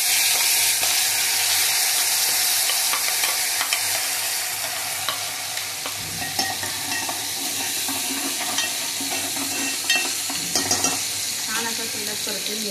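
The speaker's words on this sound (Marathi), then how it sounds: "छान असा तेलात परतून घ्यायचा. परतला ना तेल सुटायला लागलं." Green masala paste sautés in hot oil with a loud, dense, close sizzle that holds steady throughout, with scattered scraping stirs.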